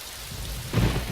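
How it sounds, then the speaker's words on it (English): A rainstorm in the video game DayZ, at an airfield at sunset: steady loud rain with a deep rumble of thunder that swells partway through, with no voices. "As the sun sets on the airfield, a storm rolls in"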